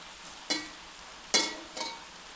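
Chowmein noodles are stirred into fried spice masala in a pan. Three sharp scraping knocks of the utensil stand out over a faint sizzle, quiet and close, with no voices.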